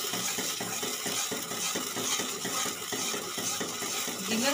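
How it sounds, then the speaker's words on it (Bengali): Egg kofta masala sautéing in a pan, a dense continuous sizzle with rhythmic stirring and spatula scrapes against the metal, close and even throughout with no voice. "এবার এটা আমি সুন্দরভাবে কষিয়ে নেব"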